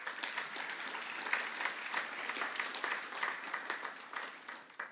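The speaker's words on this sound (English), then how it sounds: "So give yourselves a round of applause." Sustained applause from a conference audience at a gun rights policy event, steady dense clapping throughout with small swells, no speech over it.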